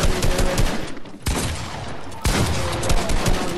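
Rapid, loud shotgun blasts and gunfire in the Fortnite video game, dense bursts in the foreground that drop out briefly twice before resuming.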